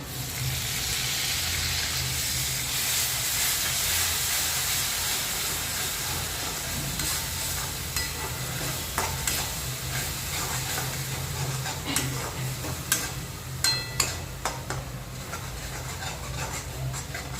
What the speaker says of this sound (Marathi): आपण जो पेस्ट केलेला कांदा टाकला होता तो छान आता परतत आलाय